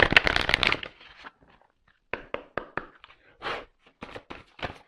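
A deck of cards for a reading is riffled in a quick, loud burst, then a series of soft slaps and taps follows as cards are handled and laid down close by, with no voice.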